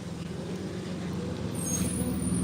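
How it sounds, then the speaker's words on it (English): A big truck labours up a hill, a low engine drone that grows steadily louder as it approaches, with roadside traffic noise around it and a brief high hiss near the end. "I hear a big truck coming up the hill"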